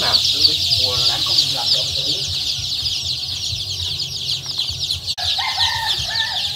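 A large flock of three-day-old bantam chicks at a poultry farm during vaccination against Newcastle disease and infectious bronchitis keeps up a dense, continuous high peeping, with soft clucks rising over it throughout.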